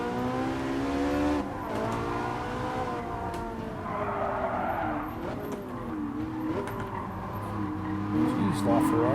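LaFerrari racing in Gran Turismo, played on a Logitech G29 wheel: a steady high-revving engine drone with shifting pitch and tire squeals, loud and continuous throughout under a voice talking.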